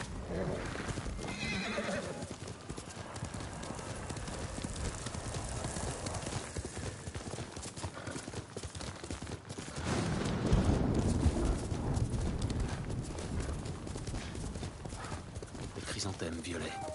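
Horse hooves clip-clop at a gallop with a loud whinny in Ghost of Tsushima, a steady rhythmic run heard under game music and spoken dialogue, swelling louder midway.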